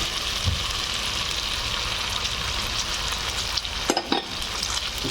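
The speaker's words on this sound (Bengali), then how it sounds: "এবার আমি চিংড়ি মাছগুলো দিয়ে দেবো" Prawns sizzle and fry in a spice masala for a Bengali masala shrimp dish, with steady broadband crackle and occasional scraping stirs near the end, close and fairly loud, no talking.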